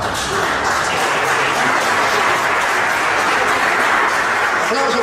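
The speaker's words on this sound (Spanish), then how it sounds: "Aplauso fuerte para estos valientes hermanos" Steady, full applause from a church congregation for visiting guests, loud and continuous throughout with a broad crowd texture.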